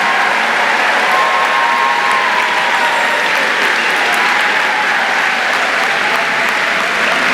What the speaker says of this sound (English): Parents, friends, let's give these guys another round of applause.